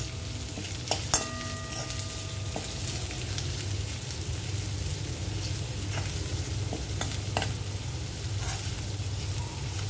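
Chopped cabbage sautéing in a hot pan for a soup, a steady sizzle and frying hiss with occasional stirring clinks and scrapes near the start, continuous and close throughout.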